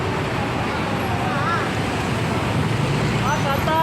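Floodwater on Espanya street in Manila, a steady broad wash of water and road traffic noise throughout, with faint vehicle sounds and occasional horn-like tones.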